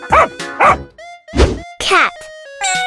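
A dog barks repeatedly up close, loud sharp barks and yips in an irregular burst, with tonal sounds held between them, amid a cartoon animal basketball game.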